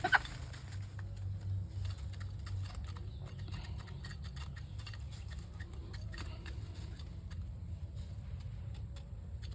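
White Kelso chickens in their pen clucking softly at feeding time, faint scattered bird calls and pecking over a low rumbling background hum.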